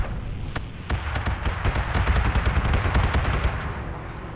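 Flak cannon gunfire in the space combat game Battlestar Galactica Deadlock, a dense continuous barrage of rapid overlapping bursts and booms that stays loud throughout.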